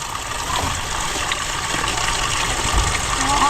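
A high-pressure water pump runs as water gushes into a container until it overflows, a steady, loud rushing splash that continues without a break.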